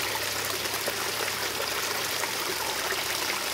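Fresh spring water flowing steadily outdoors, a continuous broadband rushing and trickling wash, fairly faint and even throughout, no voices.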